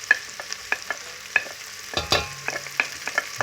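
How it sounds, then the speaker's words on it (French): Onions frying in melted butter or margarine in a pan, a soft sizzle with repeated quick scraping stirs, close and unaccompanied by talk. "maintenant vous pouvez mettre vos oignons parce que le beurre il est fondu"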